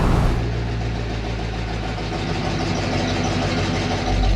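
Chevy squarebody truck engine breathing through a new Flowmaster American dual exhaust, a steady deep low rumble held loud and close for several seconds with no talk.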